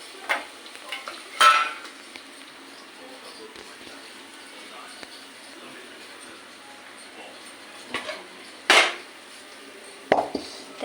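Onions sizzle gently in a pan for khichdi, a low steady frying hiss broken by several louder scrapes and clinks of stirring.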